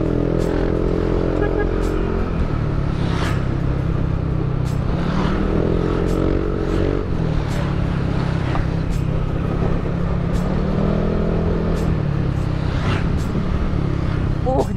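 A Yamaha Aerox 155 VVA scooter's engine drones steadily with rising and falling pitch as it accelerates while riding, with wind rush and occasional clicks, heard up close.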